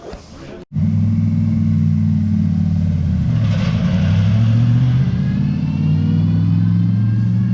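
A race car pulls away onto a damp track for its first session, the engine rumbling up loudly after a brief silence and holding a steady, strong drone as it drives off.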